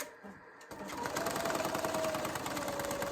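An embroidery machine stitches a design onto a Dollar Tree bunny ears headband, starting after a brief quiet moment and then running as a steady, rapid mechanical chatter with a faint rising whine, close and continuous.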